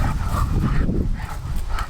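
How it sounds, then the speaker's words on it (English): Police sniffer dogs barking continuously at a crime scene in a quiet residential community, loud and close, with rough overlapping barks over outdoor noise. "Police sniffer dogs are brought out to the quiet Newgate Road community just off the Eastern Road this morning"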